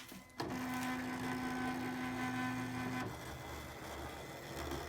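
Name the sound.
electronic fabric cutter cutting applique shapes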